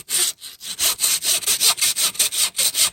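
A hand saw cuts through a deer's pelvis during field dressing, giving a steady, rhythmic rasp of back-and-forth strokes, close and loud, with no voices.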